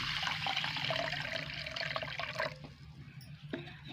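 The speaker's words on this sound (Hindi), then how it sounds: "अब हम इसके अंदर शामिल करेंगे पानी" Water poured into washed lentils for dal, a steady close rushing pour that tapers off into a few trickles and drips.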